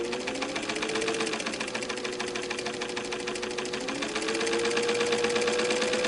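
A Singer Model 15 sewing machine runs at roughly half speed, giving a rapid, even mechanical clatter with a tone that rises as it speeds up, moderately quiet and steady throughout.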